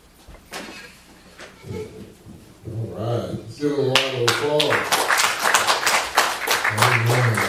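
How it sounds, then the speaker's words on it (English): A church congregation breaks into applause at a service, starting after a few seconds of murmuring and building into dense, sustained clapping as voices carry on underneath. "let's give a round of applause"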